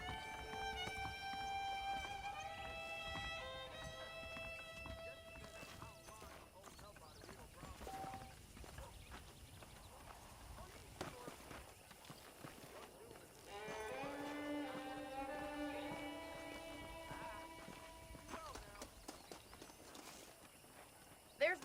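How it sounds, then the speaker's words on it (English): Hooves of a horse moving over dirt in the Red Dead Redemption video game, steady clip-clop steps heard faintly under game music and the ambient sound of a farm. "Okay, let's see if you can still ride a horse."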